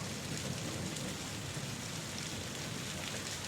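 Steady rain falls continuously as a soft, even hiss, with no talking and no break.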